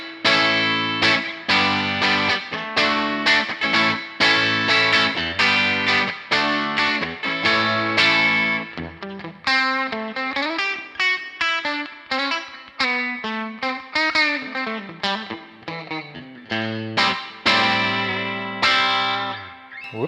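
Electric guitar on a Fender American Ultra Luxe Vintage 60's Strat, its vintage '61-style single-coil bridge pickup sounding bright through effects, picking chords and single-note lines in rhythmic bursts with short pauses, loud and up close.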